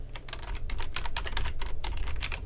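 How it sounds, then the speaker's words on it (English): Rapid, steady typing on a computer keyboard, close and continuous, with dense clicking keystrokes alone and no talk. "Again, I apologize for the typing."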